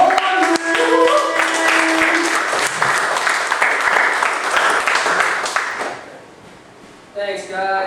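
A comedy club open-mic crowd claps and cheers for the night's final comic, dense applause with a few hoots and background music that tapers off near the end as a voice begins.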